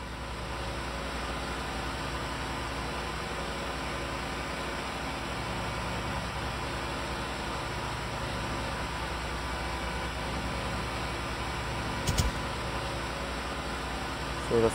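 A Type-93 German heavy tank engine runs in the Project LCL video game, giving a steady, unbroken mechanical hum with a rushing, noisy quality throughout, plus a brief click near the end.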